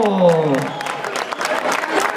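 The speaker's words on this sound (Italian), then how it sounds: "applausi al Lazio!" A crowd in a town square applauds the Lazio team after it wins the Palio, with scattered clapping and cheering building as a voice trails off at the start.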